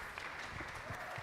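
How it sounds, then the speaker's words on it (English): A conference audience applauds a speaker being welcomed, a dense wash of clapping heard quietly and at some distance through a short moment. "Oh, keep clapping, please."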